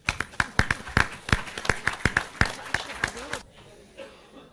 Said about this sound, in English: Another round of applause for the speakers.